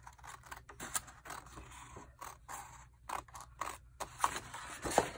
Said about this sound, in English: I think it's very simple just to snip with some scissors.